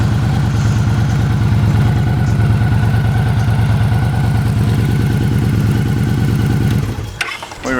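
A Victory Hardball motorcycle engine idles steadily and loud up close, a regular low pulsing throb that continues without talk until a brief clatter near the end.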